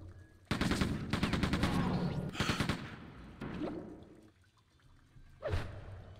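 Weapon fire in the shooter game Quake II: The Reckoning: a dense, loud volley of rapid shots for about two seconds, then a few scattered blasts and a final heavy hit, all without speech.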